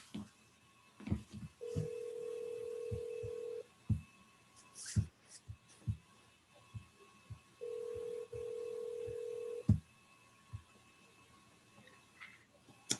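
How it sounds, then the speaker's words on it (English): Telephone signalling tones while a call is placed: two steady, sustained tones roughly six seconds apart, with scattered clicks and handling knocks around them and no talking. "Let me get Katie on the phone here."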